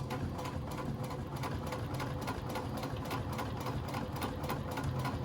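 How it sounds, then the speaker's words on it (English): A sewing machine runs steadily, top stitching through several layers of fabric on a small pouch, its needle chattering in an even, rapid rhythm at moderate volume throughout. "make sure you're feeling underneath and you're only sewing through those couple layers"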